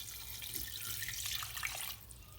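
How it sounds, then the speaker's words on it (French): Water streams steadily from a tap into a cooking pot while preparing pondu, a continuous close splashing rush that eases slightly near the end. "Donc là je vais mettre l'eau."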